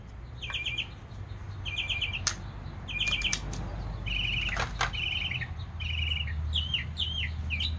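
A mockingbird sings outdoors, repeating bright trilled phrases in quick sets, loud and close over a low steady background rumble.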